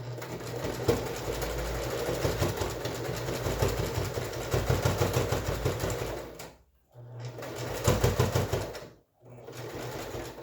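A sewing machine stitches pleats on a fabric face mask, running in steady, fast mechanical bursts that stop twice for short pauses before resuming, close and loud with no talk over it.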